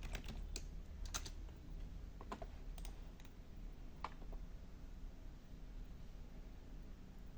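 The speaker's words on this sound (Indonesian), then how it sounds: "Caranya adalah dengan kita mengetikkan net seperti ini." Keys on a computer keyboard are tapped in a short burst of quick clicks entering a command, then a few scattered keystrokes, faint and close against a quiet hiss.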